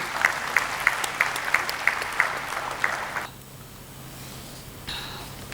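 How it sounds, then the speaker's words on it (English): A gathering at a retreat and anniversary event claps in a crisp, evenly spaced rhythm over a bed of applause for about three seconds, then the clapping stops abruptly, leaving quiet room tone. "Can we have a big round of applause, please?"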